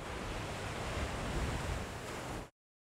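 Steady roar of ocean wind and surf in open water, loud and continuous broadband wash that cuts off abruptly after about two and a half seconds, no voices.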